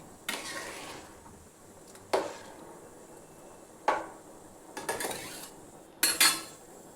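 A lid being fitted onto a cooking pot of rice, with several separate metallic clanks and knocks spaced across a quiet room, close and distinct with no talk.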